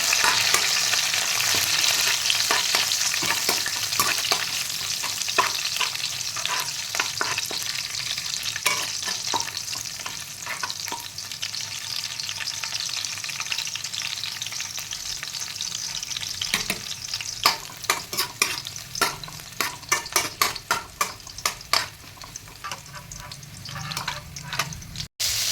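Bay leaf, chili, ginger and garlic fry in hot oil, a dense continuous sizzle with scattered crackles and pops that grow sharper and more frequent toward the end, with no one speaking.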